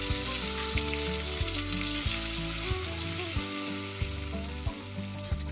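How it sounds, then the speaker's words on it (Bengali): Boiled potatoes frying in oil with curry leaves, chopped tomato and green chilli for sabudana khichdi, a steady close sizzle with a few sharp stirring clinks and scrapes of the spoon, no voices. "এবার আমি সেদ্ধ করে রাখা আলুগুলো এর সাথে একটু ভেজে নেব।"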